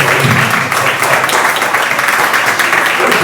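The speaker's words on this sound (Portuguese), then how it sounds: "Batendo palmas para o Senhor" A church congregation clapping their hands together during a service, a loud, dense and steady wash of applause filling the room.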